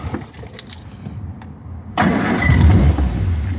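A car engine with a head gasket problem cranks and catches on a choke, quieter rattling giving way to a louder, steady rough idle close by.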